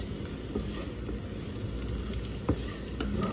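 Vegan gravy with ginger cooking in a pan, a steady close sizzle and simmer with a few faint clinks, no talk.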